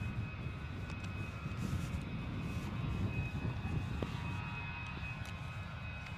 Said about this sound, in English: EasyJet 2536 coming in from Geneva with Sue Clayton's son on board as the pilot